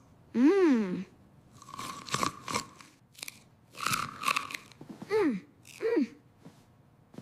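Crisp crunching bites and chewing of a crunchy apple come in short bursts close to the mic, alternating with a childlike voice speaking between the bites.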